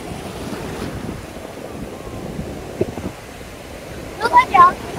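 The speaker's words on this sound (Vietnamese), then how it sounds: "biển nó sóng mạnh quá" Steady roar of rough surf and wind buffeting the microphone, with a brief burst of voices near the end.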